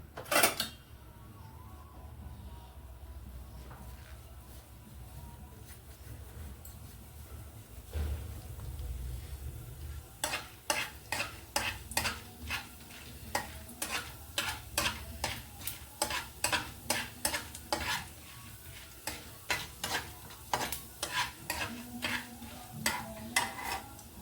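Small spoonfuls of chana dal and urad dal fry in oil for a tempering. A low sizzle builds, then a quick run of sharp, rhythmic spoon taps and scrapes against the pan takes over for the last half, with no voices.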